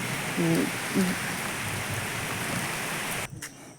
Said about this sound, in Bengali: বৃষ্টির আওয়াজটা আমি স্কিপ করিনি তোমাদের শোনানোর জন্য